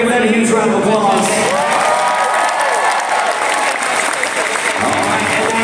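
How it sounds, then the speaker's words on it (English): Loud applause and cheering from a convention crowd at a cosplay contest, sustained throughout with whoops and shouts mixed into the clapping. "Give that a huge round of applause."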